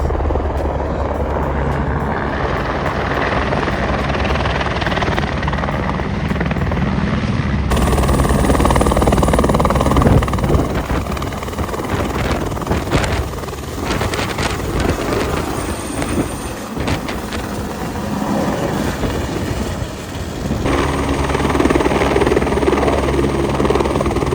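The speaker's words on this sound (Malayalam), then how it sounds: "ഇവിടെ ഒരു ഹെലികോപ്റ്റർ ലാൻഡ് ചെയ്യുന്നുണ്ടോ" A helicopter lands at Lobuche on the Cho La trek in the Nepal Himalaya. Its loud, continuous rotor roar and whine stays close throughout, rising and falling slightly as it settles.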